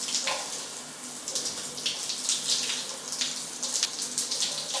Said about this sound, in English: Let's see how long it takes to get some hot water to the shower head.